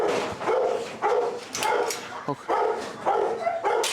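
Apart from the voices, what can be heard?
dog barking out of frustration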